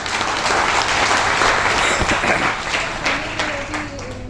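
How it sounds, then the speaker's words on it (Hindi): Steady, dense applause from a room full of people, loud and sustained throughout before tapering slightly at the end. "जोरदार तालियां मैम के लिए।"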